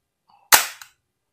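A single sharp shot from a Q7 spring-powered airsoft gun cracks nearby, followed by a brief faint rattle, then silence.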